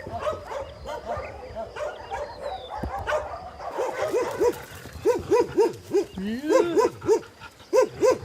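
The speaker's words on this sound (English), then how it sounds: "we have about 400 dogs here living loose." Many dogs at a large dog sanctuary bark and yip in a busy, overlapping chorus, with whimpers mixed in, starting fainter and growing louder and more rapid, while a person talks underneath.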